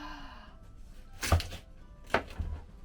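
Two firm chopping thunks with a crisp, juicy crackle, like a knife splitting a watermelon, in an otherwise quiet room.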